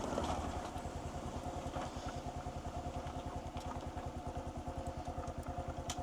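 A motorcycle engine runs steadily nearby with an even, fast-pulsing throb and light mechanical clatter, moderately quiet and unbroken throughout.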